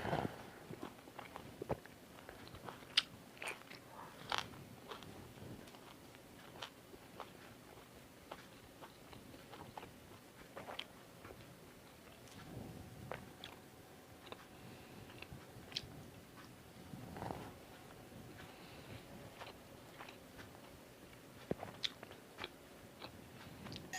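Someone eats Isan-style cassia leaf curry, with soft, close chewing and occasional slurps and clinks spread irregularly over a quiet room tone.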